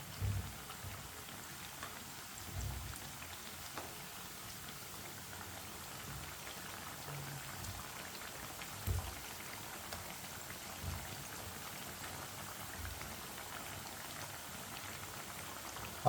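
Pea kebab patties (matar tikki) fry in hot oil in a pan, giving a steady, soft sizzling hiss with a few faint low bumps throughout.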